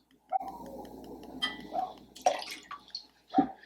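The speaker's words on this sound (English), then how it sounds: "now I have this floral sweet syrup. And we're going to be adding 3/4 of an ounce" Lavender syrup for a zero-proof cocktail, three-quarters of an ounce, poured in short, quiet trickles with a few sharp clicks and taps between them.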